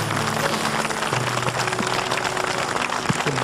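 Audience applause at a television talk show after a tribute to mothers: steady, dense clapping that fills the whole stretch at a moderate level, with faint sustained musical tones underneath.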